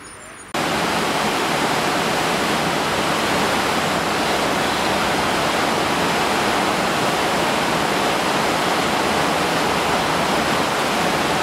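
A river near Aberkenfig in Wales rushes steadily, a loud, dense, continuous roar of flowing water close by that starts abruptly and then holds unchanged throughout.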